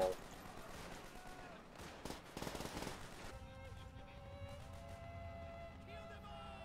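Gunfire in the World War II game World at War: scattered shots, then a dense burst of rapid fire, giving way to sustained tonal game sound with a voice present.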